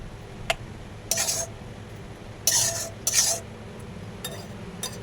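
Cooked pumpkin and jaggery mixture is scooped from a pan into a bowl with a spoon, making several short, bright scraping bursts over a quiet, steady background.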